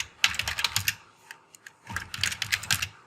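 Fingers typing a name on a computer keyboard, two quick bursts of soft, close key clicks separated by a short pause, at low volume.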